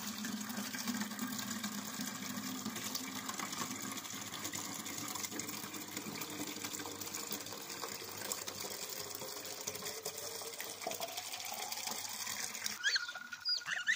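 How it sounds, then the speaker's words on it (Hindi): Water pours and gushes steadily from a tap or pipe for pet geese, a faint continuous trickling fill that ends with a few soft splashes. "पानी डाल रहा हूँ"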